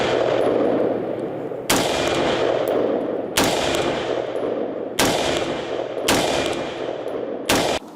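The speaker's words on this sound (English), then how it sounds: "It's the A1 M16 machine gun." M16A1 machine gun firing in several sharp, loud bursts separated by brief pauses, each burst cutting in abruptly over a steady background hum.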